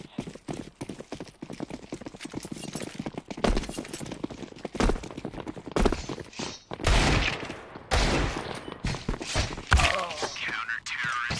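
Video game gunfire shooting at enemies, a dense stream of rapid shots and impacts, loud and close and continuing for the whole stretch, with a voice talking over it.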